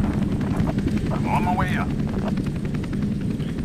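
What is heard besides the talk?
helicopter flying around in video game F.E.A.R. 2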